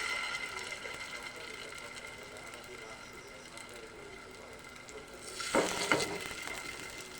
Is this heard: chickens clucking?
no